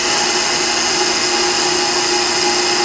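A marble floor polishing machine runs continuously, a loud, steady motor whine and hum that holds without change, close by and with no talk.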